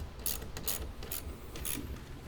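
A ratchet wrench tightening the nut that holds a power lead on the battery terminal of a 2021–2024 Ford Bronco, giving several bursts of quick metallic clicking from close by, each stroke separated by brief pauses.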